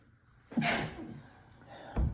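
A single sharp human sneeze bursts out close by in a quiet room, followed by soft breathing and the start of another breathy burst near the end.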